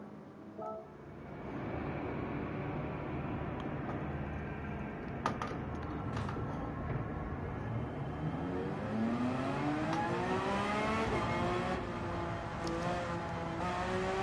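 Porsche GT3 race car engine in Gran Turismo 7 during an open lobby GT3 race, revving steadily with rising and falling gear sweeps, loud and continuous with no talking.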